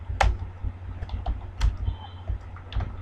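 Keys clatter on a computer keyboard as a heading is typed into a Google Form, a handful of distinct close taps spaced irregularly over a soft background hum.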